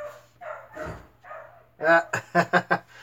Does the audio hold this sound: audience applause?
no